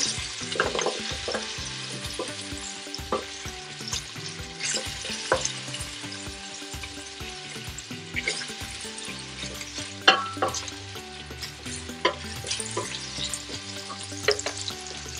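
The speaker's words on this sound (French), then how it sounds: "Et je fais frire à peu près pendant 5 minutes avant de verser la tomate." Steady close sizzling of frying in a pan for pistachio sauce, with salt added, cooking for several minutes before tomato goes in, with occasional clinks and stirring scrapes throughout, no voices.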